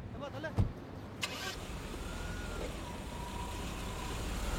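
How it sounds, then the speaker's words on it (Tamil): A vehicle arrives, its low engine hum steadily growing louder under people talking in the foreground. "வண்டி வருது."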